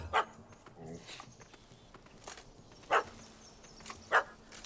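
A puppy in The Witcher 3 barks in a few short, sharp bursts spaced through the clip, fairly close, with game ambience and low background noise between them.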